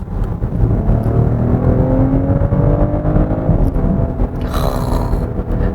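Six-cylinder engine of a BMW X5 50e plug-in hybrid SUV pulls hard under acceleration, a steady rising whine and roar heard from inside the cabin, ending with a brief shift-like change near the close.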